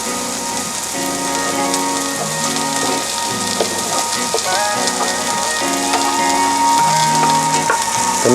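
Chopped meat for Filipino sisig stir-frying in a hot pan, a dense steady sizzle and crackle close to the mic, heard under looping background music with no speech.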